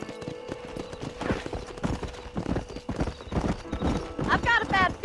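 Horse hooves clip-clop at a steady gallop in Red Dead Redemption, loud and close, with a whinny near the end and voices talking over the hoofbeats.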